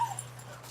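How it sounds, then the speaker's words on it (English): Pet dogs whimper and give short, soft yips indoors, faint and close, with a brief high whine near the start and no talk over it. "And my dogs love him, so they'll be making noise."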